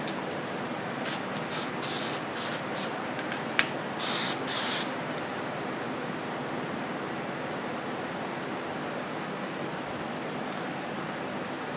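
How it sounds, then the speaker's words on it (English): Clear spray finish hissing from an aerosol can onto scroll-saw wooden dog figurines, several short bursts of a few seconds each over a steady background hiss, then quiet continuous noise. "now we can put on some clear spray finish"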